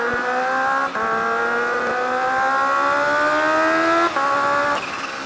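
Near, loud engine of a 2019 Kawasaki H2 Carbon motorcycle accelerating hard in first gear, its whining tone climbing steadily over about five seconds with brief dips at throttle changes, no talk over it.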